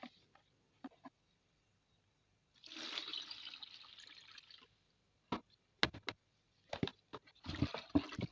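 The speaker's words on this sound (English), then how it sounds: "So I will go ahead and pour it into my cloisonne mixture." A dissolved mixture is poured into a homemade antiseptic liquid, a splashing pour lasting about two seconds, followed by scattered drips, knocks and brief liquid sounds in an otherwise quiet space.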